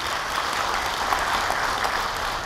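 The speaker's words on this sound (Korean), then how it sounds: "다시 한번 정혜성 교수님께 큰 박수 부탁드립니다" Steady audience applause at a Korean citizens' forum after a professor's presentation, a dense continuous wash of clapping from a sizable crowd, fairly loud and without voices.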